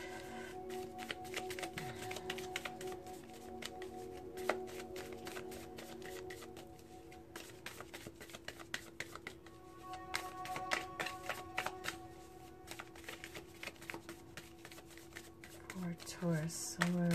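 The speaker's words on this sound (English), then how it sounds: "I will show you the cards, but I'll continue the shuffle." Tarot cards are shuffled by hand in a continuous papery riffle with soft taps and flicks, close and steady for the whole stretch.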